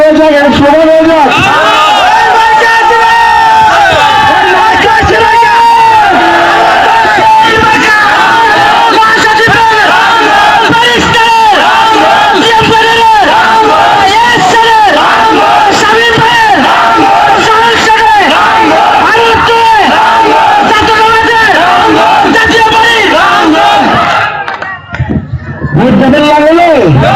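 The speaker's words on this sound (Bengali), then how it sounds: "একটা মিছিল হয়ে যাক, একটা স্লোগান হয়ে যাক।" A loud crowd at a political election rally chants slogans in unison, with rhythmic, repeated call-and-response shouting that fills the space continuously and then drops off briefly near the end.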